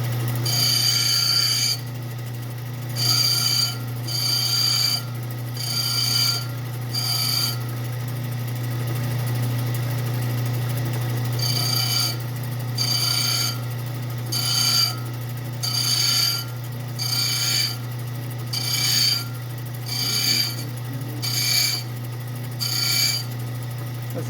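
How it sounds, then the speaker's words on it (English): A gemstone preform being shaped by hand against a running grinding wheel: a steady motor hum underneath, with repeated bursts of rasping grinding as the stone is pressed to the wheel, pausing mid-way then resuming in quick regular strokes. "preforming by hand on this grinding wheel is way faster than trying to preform on a faceting machine"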